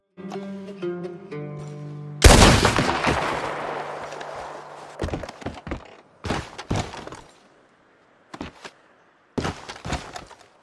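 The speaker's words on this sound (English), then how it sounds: "And then we can shoot this poor fella down." A gunshot fired at a man in Red Dead Redemption 2 rings out loud and sharp after a few quiet game tones, its long echoing tail decaying, followed by several scattered thuds and clatters.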